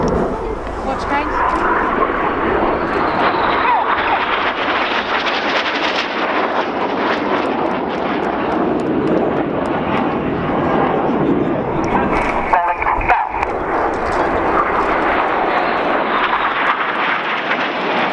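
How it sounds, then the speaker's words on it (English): Red Arrows RAF jets roar loudly and continuously overhead during an opposition barrel roll at an air show, with an announcer talking over the engine noise. "So cameras ready now for the opposition barrel roll."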